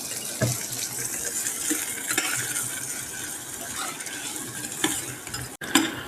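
Onion added to a pan where garlic and whole masoor lentils are frying: a continuous crackling sizzle with occasional scraping stirs and clinks of a utensil, close by and fairly loud throughout.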